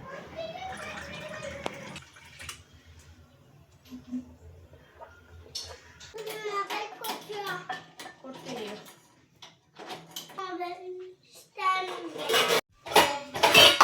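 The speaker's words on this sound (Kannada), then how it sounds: "ಹೊಡೆದಿಟ್ಟಿರೋ ಪಾತ್ರೆಗಳನ್ನೆಲ್ಲ ಒಂದ್ಸಲ ಸೆಟ್ ಮಾಡ್ಕೊಬಿಡ್ತೀನಿ." Washed pots and dishes clink and clatter as they are stacked in a family's Kannada home kitchen, with intermittent metallic knocks under someone talking and a voice.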